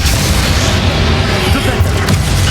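A Levioso spell cast during a final boss fight in Hogwarts Legacy, one loud, sustained booming rumble with dense low-end roar, close and overwhelming.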